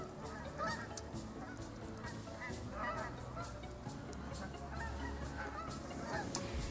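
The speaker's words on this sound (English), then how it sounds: "Now, all the birds are flying north." A flock of geese honks repeatedly on the wing outdoors over the Gettysburg battlefield, a steady overlapping chorus of calls held at a moderate distance against a low rumbling background.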